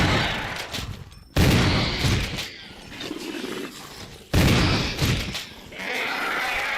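Shotgun blasts in Resident Evil (2002), two loud, booming shots a few seconds apart, each with a short echoing tail, set against eerie game ambience.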